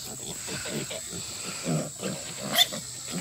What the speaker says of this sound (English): And Odin, throw to the pigs.